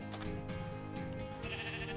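Sheep bleats from the Minecraft video game, several short bleats close together with no talk over them, loud and near.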